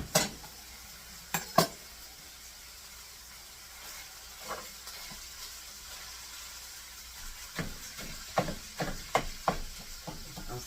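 Food is chopped and stirred in a pan in a home kitchen for green bean stroganoff, with scattered sharp knocks and scrapes over a quiet background, sparse at first and more frequent toward the end.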